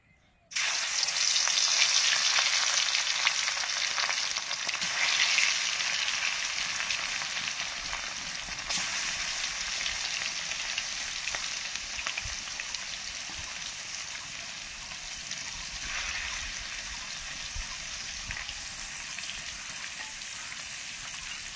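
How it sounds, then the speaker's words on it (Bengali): Katla fish pieces rubbed with salt, turmeric and chili powder fry in hot oil, a loud bright sizzle that bursts in suddenly and then hisses steadily for about twenty seconds, close up, with no voices. "এবার মাছটা ভেজে নিচ্ছি, মাছে নুন হলুদ লঙ্কা গুঁড়ো মাখিয়ে নিয়েছি।"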